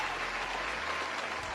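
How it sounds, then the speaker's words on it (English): Audience applause at a live comedy-style show, a dense, steady wash of clapping from a roomful of people, continuous and even throughout with no talk over it. "Big round of applause."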